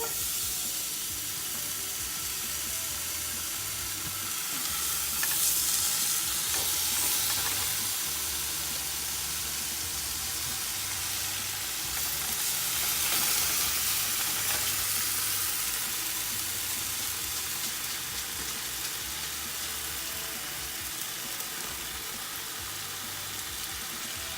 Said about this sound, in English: I'm starting on my egg and I need to cook the bacon.